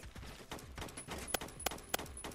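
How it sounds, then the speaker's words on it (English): Gunfire from a first-person shooter, Phantom Forces, with several sharp shots standing out over a busy, dense game soundscape. "Teammate, stop shooting at me."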